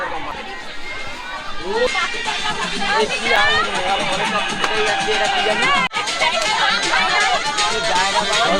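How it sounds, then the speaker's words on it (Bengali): A dense crowd of express-train passengers at Naihati railway station in West Bengal fills the air with loud, continuous babble of many voices close by, with someone talking over it. "প্রচুর ভিড় রয়েছে নৈহাটি স্টেশনে"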